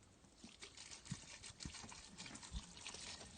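Spring water trickles and pours over blackberries in a container for homemade wine, a faint, close, uneven stream with small splashes and gurgles, continuing without talk.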